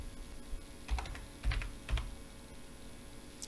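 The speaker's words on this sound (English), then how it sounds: "the password I'll be entering Shaji" A few soft keystrokes on a computer keyboard as a password is typed, quiet clustered taps over low room hum, with no voices.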